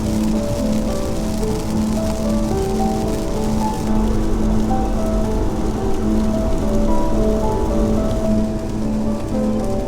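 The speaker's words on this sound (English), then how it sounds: "Oh my goodness, that's exceptionally rainy out there." Heavy storm rain pours down on a farm in Portugal, a dense, loud and unbroken hiss of drops drumming on surfaces for the full stretch, with no voices.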